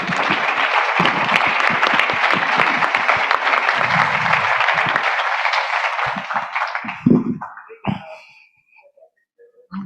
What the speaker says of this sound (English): Please give a round of applause to all the great panelists on the stage.